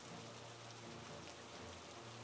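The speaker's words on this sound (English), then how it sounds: "What's the sound? Is it raining?" Steady rain in a Roblox game hisses evenly on a surface, a continuous dense patter with a low hum underneath and no voices.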